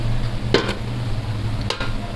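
Garlic ginger paste frying with onions in a pot, a steady soft sizzle with two brief stirring scrapes, close by and alone.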